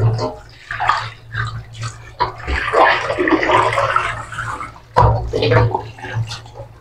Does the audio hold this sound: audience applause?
no